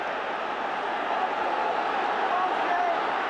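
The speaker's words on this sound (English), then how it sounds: "The crowd are doing all they can to help." A large football crowd at a Luton versus Manchester City relegation decider roars in a continuous, dense wash of cheering and noise, steady and loud throughout with no single voice standing out.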